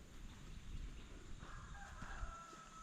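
Roosters crowing on a farm pasture, a sustained crow rising partway through over a steady outdoor background, moderately distant and not very loud.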